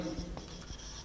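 Pen writing an answer summary by hand for a physics numerical on capacitors, heard as faint brief scratching strokes close to the microphone in a quiet room.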